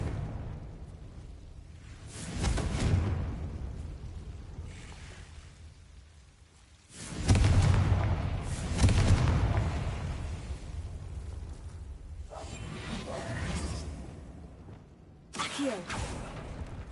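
Confringo spell blasts in Hogwarts Legacy burst out as heavy booming explosions with rumbling tails, one around the middle and a sharper one near the end, amid whooshing spell effects.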